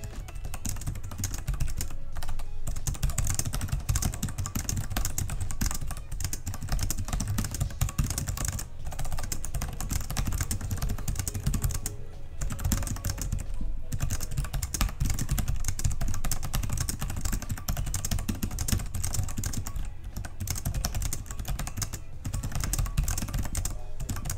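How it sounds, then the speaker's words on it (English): Typing test on a laptop keyboard with a rigid metal chassis and minimal flex: steady, continuous clicking of keys at a brisk rhythm, close and fairly loud, with brief pauses and no voices. "Here's a quick typing test."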